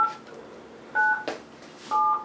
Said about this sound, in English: We'll just dial it on the phone.